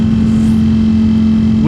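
Ducati Streetfighter V4 with an Akrapovič exhaust and tune, being ridden: a loud, steady engine drone holding one even note throughout, close to the microphone and without talk.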